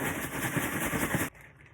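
Okra pieces shaken hard inside a sealed bag of cornmeal give a loud, dense rattling swish that runs steadily for just over a second, then stops abruptly with nothing left behind.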